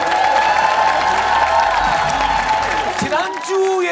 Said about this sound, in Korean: 다시 한번 축하 박수로 환영해 주고요.